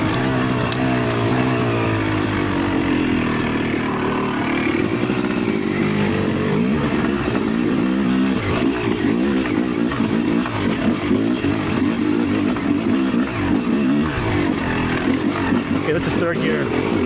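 Yamaha YZ300 electric-start dirt bike engine revving while riding in third gear, a loud continuous buzzing drone that rises and falls with the throttle, with someone talking over it.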